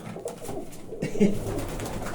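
A pigeon in a loft gives a few soft, low coos at close range, with faint room noise and no talking.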